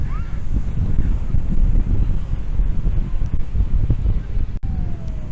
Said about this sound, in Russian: Ветер уж очень сильный сегодня.